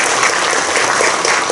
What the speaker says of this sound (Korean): 우리 총회장님께 다시 한번 큰 박수 부탁드리겠습니다